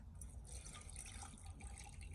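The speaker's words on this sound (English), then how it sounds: "So right now I'm adding some water." About 100 millilitres of water poured into a chemical solution during a gold recovery process gives a faint, continuous trickling and splashing, steady from start to finish with no talking.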